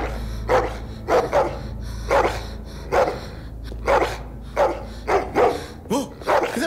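A female dog barks in The Walking Dead: The Final Season, a steady series of about ten short, moderately loud woofs at roughly even intervals over a low background hum.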